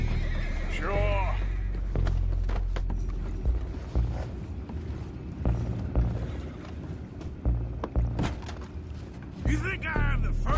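Horses in the video game Red Dead Redemption 2 whinny loudly near the start and again at the end, with hooves clopping, wooden creaks and mechanical clunks throughout a busy outdoor scene.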